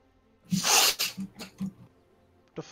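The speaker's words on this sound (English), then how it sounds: "Is that you like sneezing or something? It's a sniffle." Someone in a room sniffles or sneezes during a game session: a sharp burst of breathy noise followed by several quick snuffling sniffs, close to the microphone.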